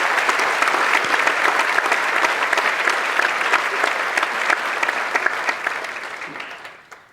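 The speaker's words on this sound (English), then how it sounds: "They all deserve our thanks and a quick round of applause." Audience applause for teachers at the 2016 King commencement ceremony, a full, steady round of clapping from a large crowd lasting several seconds before fading out at the end.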